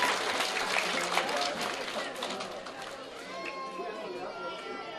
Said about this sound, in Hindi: जोरदार तालियां जी।